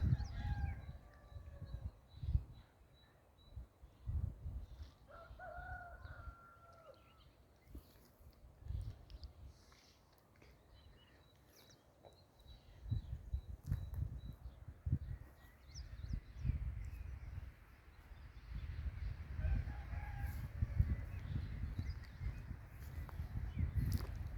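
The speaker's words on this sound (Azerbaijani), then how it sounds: "Bu başqa xoruzdur." A rooster crows several times in a rural yard, each call drawn out and rising then falling, moderately distant, with other fowl and low rustling and thumping around it.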